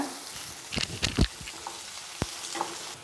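Pressure-cooked mutton is stirred into frying onions for Chettinad mutton sukka, giving a low sizzle broken by a few sharp scraping and clattering stirring strokes, with no talking.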